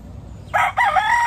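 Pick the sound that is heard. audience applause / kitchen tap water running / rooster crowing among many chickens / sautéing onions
rooster crowing among many chickens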